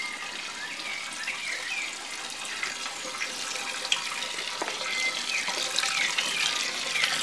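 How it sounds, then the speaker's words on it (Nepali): Water for Nepali tongba millet brew heats in a pot, giving a soft, continuous bubbling and gurgling with scattered small pops, fairly quiet and close. "यो पानी चाहिँ मजाले उम्लिनु दिनु पर्छ"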